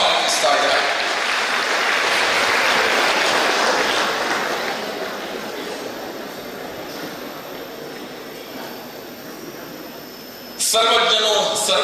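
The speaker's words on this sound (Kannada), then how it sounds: "ಅಧ್ಯಕ್ಷರು ಮತ್ತು ಮುಖ್ಯ ಅತಿಥಿಗಳ ಅತ್ಯಂತ ಆತ್ಮೀಯವಾಗಿ ಪ್ರೇಕ್ಷಕರ ಕೈ ಚಪ್ಪಾಳೆಯೊಂದಿಗೆ ಮುಖ್ಯ ವೇದಿಕೆಗೆ ಸ್ವಾಗತಿಸ್ತಾ ಇದ್ದಾರೆ" Audience applause at a Kempegowda Jayanti community hall function, welcoming the president and chief guests onto the main stage: a sustained, dense clatter of clapping that fades slightly midway before swelling louder again near the end.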